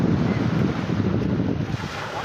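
Wind and ocean waves wash over a beach near Thoothukudi, close to a harbour, as a continuous, fairly loud rushing roar with buffeting wind noise on the microphone.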